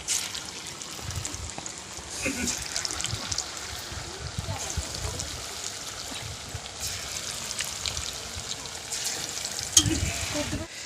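Chicken pakoras crackle and sizzle steadily in hot oil in a home kitchen, a continuous quiet frying hiss with small pops, while a person talks over it.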